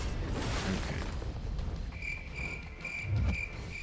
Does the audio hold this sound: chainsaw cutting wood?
no